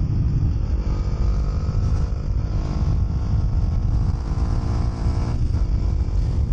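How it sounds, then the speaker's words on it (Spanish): A small 150cc street-sport motorcycle engine runs steadily up close, a continuous low rumble with a dense harmonic drone that holds level throughout, with no talk over it. "Es una moto"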